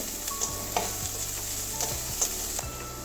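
Mushrooms lightly frying in a pan with chopped chillies for chilli mushroom give a soft, steady sizzle broken by several distinct scraping stirs, close and moderately loud with no talking.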